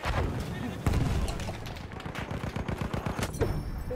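Gunfire and explosions from the Battlefield 1 game, including a thrown bomb, with a dense burst of rapid shots and booms running loud throughout, under game voices talking.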